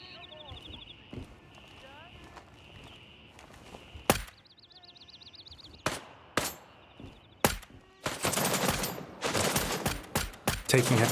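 Heavy gunfire in the tactical shooter Gray Zone Warfare: sharp, loud shots crack out singly, then merge into dense sustained bursts near the end, with a voice talking underneath.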